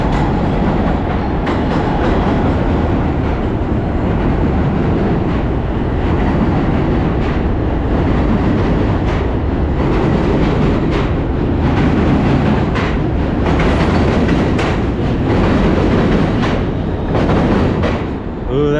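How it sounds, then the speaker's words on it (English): Subway train rumbling across the Manhattan Bridge in New York City, a loud continuous roar of wheels and clattering rail joints close by, steady for the whole stretch with faint traffic and wind underneath. "It's crazy how often the trains run."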